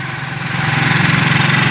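The engine of a motorized sidecar tricycle idles close by during a street fiesta in Tondo, a loud, steady, rapidly pulsing chug that swells slightly as it runs.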